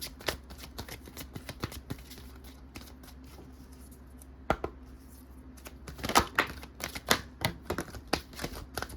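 Tarot cards being shuffled and drawn by hand: quick papery riffles and sharp flicks in irregular bursts, close and fairly quiet, growing busier and louder toward the end.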